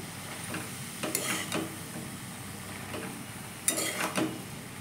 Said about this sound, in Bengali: এবার কেটে রাখা বাঁধাকপিগুলো দিয়ে দেওয়া হলো ভালো করে মিশিয়ে নেওয়া হচ্ছে